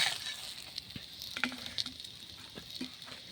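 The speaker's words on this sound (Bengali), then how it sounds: "বেগুনটা সুন্দর করে ভাজা হয়ে গেছে, লাল লাল করে।" Sliced fresh eggplant frying in oil over a wood-fired clay stove, a soft close sizzle with light clicks and taps as the pieces are lifted out one by one.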